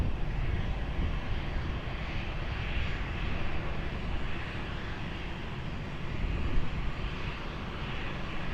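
An airliner takes off from Lisbon Airport on runway 20, a broad steady roar of jet engines heard from a distance, rumbling evenly throughout with no voices.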